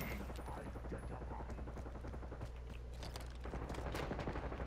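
Dense, near-continuous automatic gunfire and explosions from Call of Duty Black Ops 6, beta Kill Order mode, rattling steadily over low rumbling game ambience throughout.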